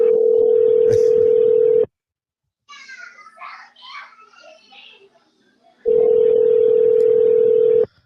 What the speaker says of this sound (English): I'm calling Dre on the phone.